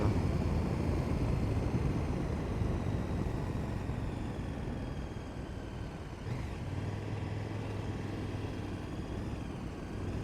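Steady engine drone from a KTM motorcycle ridden along a road toward the Northern Marmara highway, continuous and fairly loud throughout with wind rush and no talking.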